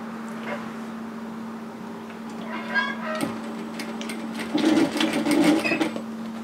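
A sewing machine stitches an apron dress strap, its steady motor hum running throughout and growing louder and more rapid toward the end, close by with a few faint clicks.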